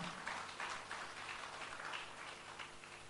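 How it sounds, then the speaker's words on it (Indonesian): Congregation clapping together during a Sunday church service, a steady dense patter of many hands, fairly faint and distant, lasting the whole stretch. "Yang mengerti, berikan tepuk tangan."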